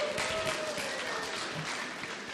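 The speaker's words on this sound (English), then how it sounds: "Only in Roseburg would I get applause for beans." Audience applause in a lecture hall at a university vegan talk, a steady dense wash of many hands clapping throughout, fairly loud and even with no pauses.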